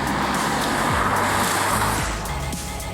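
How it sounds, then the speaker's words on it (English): A BMW 840d diesel coupe with an 8-speed automatic accelerates hard under kickdown, a loud, continuous engine roar with shifting pitch and road rush heard close. "Sport keeps the engine revving at its torque peak, giving you instant access to the 8-speed gearbox's kickdown, resulting in some very strong acceleration"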